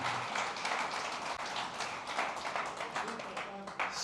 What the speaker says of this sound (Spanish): Más fuerte el aplauso al Señor.